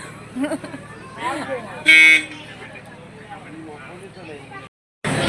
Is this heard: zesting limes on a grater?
no